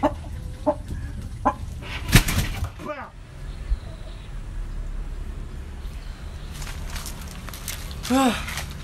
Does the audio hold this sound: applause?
no